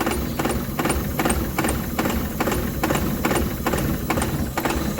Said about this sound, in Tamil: ஸ்டார்டிங் ஆகிட்டு ரேஸ் ஆக மாட்டேங்குது பாருங்கள்.